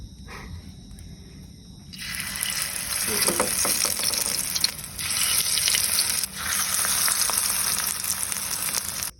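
Steady, loud sizzling of food frying in oil begins after a quiet moment and carries on with crackles, dipping briefly twice before resuming.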